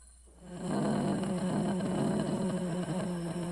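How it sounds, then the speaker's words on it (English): Potato, a creature in the video game Cooking Companions, lets out a sustained low growl after a brief quiet start, a rough rumbling tone held steadily for about three seconds. "Potato growled."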